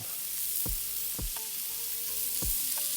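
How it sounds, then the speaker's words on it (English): Onions browning in olive oil in a hot pan sizzle steadily and close, with several sharp knocks of a utensil against the pan breaking through the hiss, no voices. "go ahead and brown those onion up"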